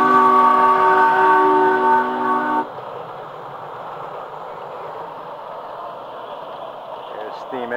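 Steam train with a loud whistle or horn sounding as a sustained harmonic chord for about two and a half seconds, then the rumble and hiss of the passing train continuing steadily, near and loud.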